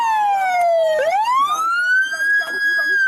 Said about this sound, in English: Sirens, cut the sirens.